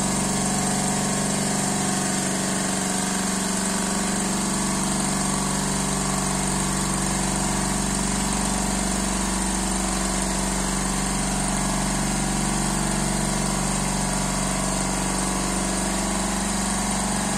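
An air compressor runs continuously while building pressure, its motor humming and droning steadily at close range with an even, unbroken tone and no voices over it.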